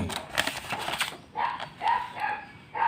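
A dog barks several times nearby, sharp yips and whimpering barks spaced apart after a stretch of clicking, loud and clear with no talk.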